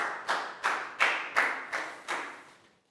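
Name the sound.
class clapping, round of applause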